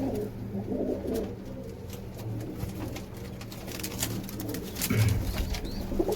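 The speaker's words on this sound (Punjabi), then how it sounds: "ਆਹ ਢਿੱਲ ਵਾਲਾ ਕਬੂਤਰ ਬਾਈ ਜਿਹੜਾ ਬਰਨਾਲਾ ਢਿੱਲ ਵਾਲਾ" Pigeons coo in low, throaty murmurs close by, several birds overlapping continuously, with faint rustling in the background.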